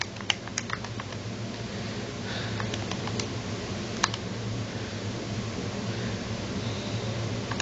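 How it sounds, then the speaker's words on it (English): Rapid clicking keystrokes tap on a computer keyboard, close and fairly quiet, in uneven bursts over a soft background hiss. "Sorry, typing it in now."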